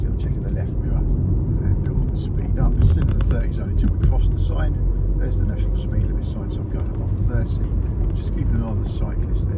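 Interior rumble of a car gathering speed on a road as it leaves a 30 zone, a low, steady engine and road drone running throughout beneath continuous talk from the driver.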